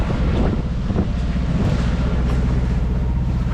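Wind blows steadily across a sailboat off the Peloponnese coast, a continuous loud low rumble of gusts buffeting the microphone, with no talking.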